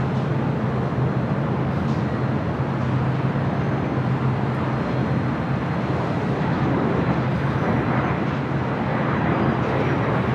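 A China Airlines cargo Boeing 777 freighter taxis at LAX, a steady broad engine roar with a low hum holding at constant loudness, heard without talk.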